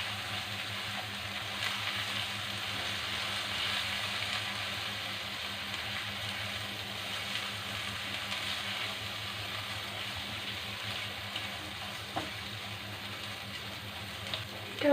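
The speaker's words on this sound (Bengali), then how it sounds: "লবণ, এটাকে ভালো করে কষিয়ে নেব।" Spices with chili powder and salt sauté in a pan for loita shutki curry, a faint, even frying hiss that continues steadily with only small scattered crackles.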